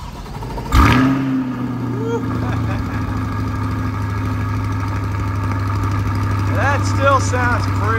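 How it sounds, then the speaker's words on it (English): A 2021 Chevrolet Corvette C8 Stingray cold-starts with a sharp starter whirr and loud flare of revs, then settles into a steady, deep idle heard up close, with a few faint bird chirps. "A cold start on a 2021 C8 Stingray."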